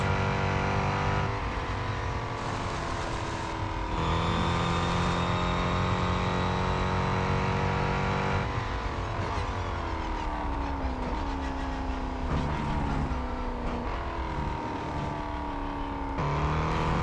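Mercedes-Benz AMG GT3 race car in the mobile racing game Real Racing 3, its engine droning steadily at high revs with rising and falling pitch through gear changes, loud and continuous with no voices.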